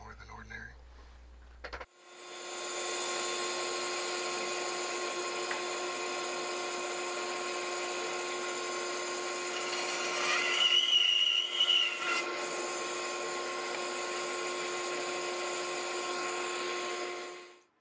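A woodworking bandsaw cuts the wood for an heirloom rocking horse, giving a loud, steady, high-pitched whine that runs continuously for most of the stretch and shifts briefly in the middle as the blade works through a curve.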